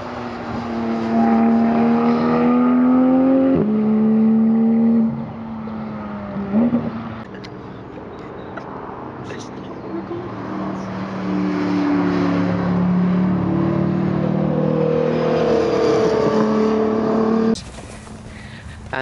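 Cars lapping the Goodwood race track on a trackday, engines droning loudly and shifting pitch as they pass and accelerate, with a brief lull midway before another car roars by.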